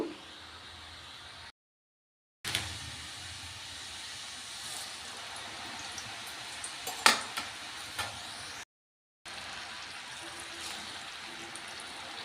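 Urad dal murukulu (jantikalu) deep-frying in oil on a stove at medium flame: a steady, soft hissing sizzle lasting many seconds, with a couple of brief gaps of silence and a few faint crackles.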